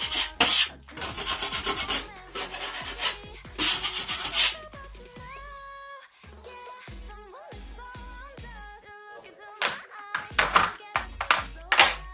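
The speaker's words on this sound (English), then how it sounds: "Then I'll let it dry and I'll come back and sand it smooth." A filled hole is sanded smooth by hand, with close, loud bursts of raspy rubbing strokes broken by short pauses and a quieter stretch in the middle.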